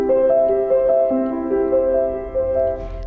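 The opening of a Chopin piece is played softly on piano, with gentle repeated melodic notes over sustained chords. The passage is even and unhurried with no talking.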